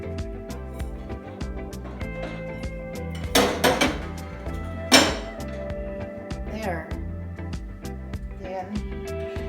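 Metal rotisserie basket clinks and clanks sharply a few times while marinated chicken is fitted into it, close by, with a couple of louder bursts in the middle over steady background music.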